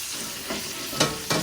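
Duck breasts sizzle loudly in a hot pan, a dense continuous frying hiss with two sharper bursts as the pieces are flipped and touched down, alone without talk.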